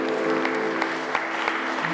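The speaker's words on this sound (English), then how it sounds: "I'd like to get a round of applause for our beautiful." Audience applause at an evening art salon event, a moderate, steady patter of clapping with a few sharper claps standing out over a low background hum.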